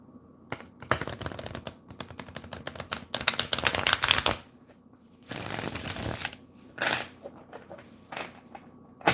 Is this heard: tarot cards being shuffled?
yes